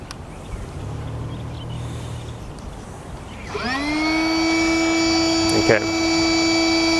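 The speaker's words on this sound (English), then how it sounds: "the pump is using a high volume inflating pump, which will inflate the board fairly quickly" High volume electric pump inflating an inflatable SUP board, starting abruptly with a rising whine that settles into a loud, steady motor drone, following quieter rustling and a faint earlier hum.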